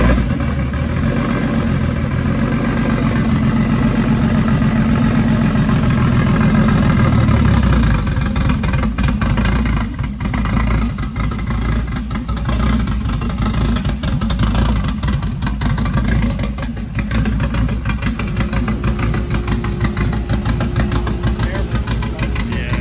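A BMW E36 fitted with a new Garrett turbo cranks and fires, then settles into a loud, close, steady idle with a rough, pulsing low rumble throughout.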